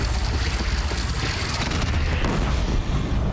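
A bandit cannon in a Horizon game fires a volley of six bombs, producing a loud, continuous rumbling barrage of booms and blasts that rolls on without pause.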